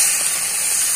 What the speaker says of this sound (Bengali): এবার টক দইটা ঢেলে দেবো।